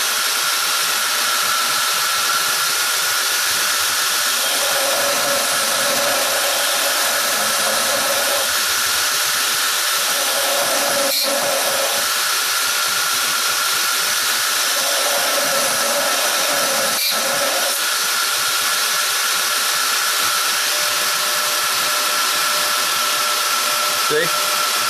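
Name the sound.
grinding wheel profiling a knife blade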